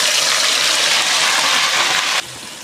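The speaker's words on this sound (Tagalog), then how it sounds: "Ibuhusan natin ang ibinabad sa tubig na mani." Soaked peanuts and their water are poured into a pan of fried garlic, a loud steady gush and hissing splash lasting about two seconds before abruptly dropping to a quieter sizzle.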